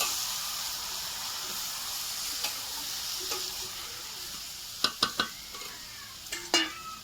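Snails stir-fried in a pan for curry, a steady hiss of frying with a few sharp spatula knocks and scrapes toward the end.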